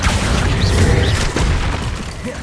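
Spell blasts from Hogwarts Legacy, a loud continuous roar of magical explosions and crackling bursts that fills the whole moment, dense and booming with no clear pauses.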